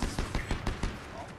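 Rapid bursts of video game gunfire crack out in a quick, evenly spaced string of sharp reports, heard at moderate level with some background game noise.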